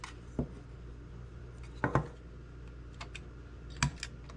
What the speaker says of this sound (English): Now I'm just going to trim it here